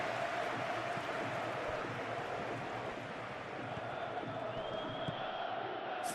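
Simulated stadium crowd in a PES 21 Champions League match between Benfica and Real Madrid roars in a continuous, loud wash of cheering, with a brief whistle-like rise near the end.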